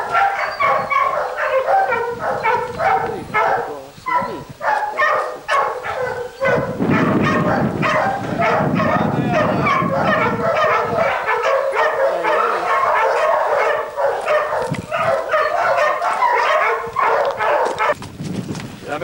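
Several dogs bark repeatedly at a home in Spain, loud and close in rapid overlapping bursts, with people talking at times underneath and a clattering mid-section of rough noise.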